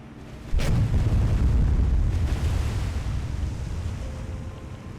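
Heavy cruisers fire naval guns in the War on the Sea game: one loud, deep boom hits suddenly, then a long low rumble slowly fades, with no voices over it.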